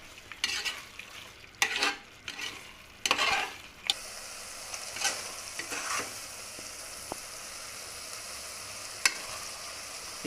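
Coriander and chili powders fry for soya pulao in a pan, with several scraping stirs at first that settle into a steady, close sizzle.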